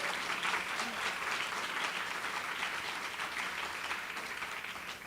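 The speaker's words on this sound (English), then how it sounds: "let's give a round of applause" Sustained applause from a crowd, steady and dense throughout, many hands clapping at once with no pauses.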